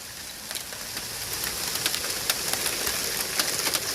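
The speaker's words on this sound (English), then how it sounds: "Yeah, we currently have hail." Hail falling in a supercell storm beneath a wall cloud as the wind picks up: a steady, dense patter of hard impacts with scattered sharper knocks, growing slightly louder, with no talking.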